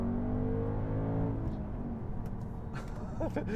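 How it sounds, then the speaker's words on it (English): An Audi S5 V8 engine hums with a deep, steady exhaust rumble that gently swells and settles, heard from nearby. "That noise, especially with that exhaust, just sounds fantastic."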